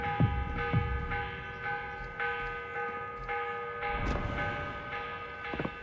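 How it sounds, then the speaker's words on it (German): Morning church bells ring in the video game Assassin's Creed Revelations, with repeated deep resonant strikes at a slow steady pace and long humming tones that linger between them. "Die Morgenglocke."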